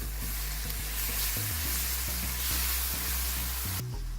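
Chicken mince with garlic-ginger paste and garam masala is stirred in a hot pan, giving a steady close sizzle with repeated soft scraping strokes of the spoon in an even rhythm, with no voices.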